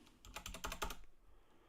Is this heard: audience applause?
no